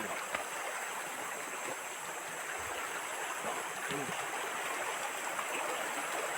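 River water flowing steadily, a constant broadband rush and hiss heard close and fairly loud with no talk, with a few faint low thumps beneath it.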